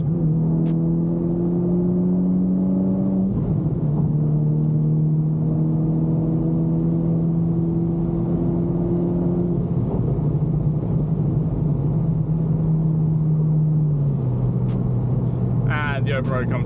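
A Volkswagen Scirocco R drives along an open road, its engine droning loudly from inside the cabin and climbing in pitch, then dropping at each gear change before pulling again.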